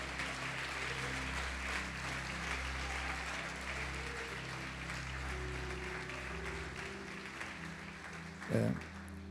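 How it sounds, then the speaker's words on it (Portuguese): Church members applaud during a Lord's Supper service, a broad wash of clapping under a steady low hum of room sound and music, sustained throughout with a brief louder knock near the end. "Pode aplaudir"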